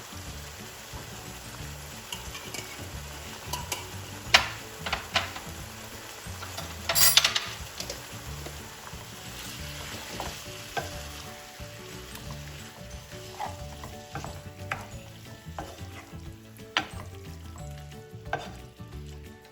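Chicken liver fry sizzles steadily in a pan with pepper, coriander and Kashmiri chilli powder, while a spoon stirs and scrapes at intervals, with a few louder clinks near the middle; close and continuous, no talking.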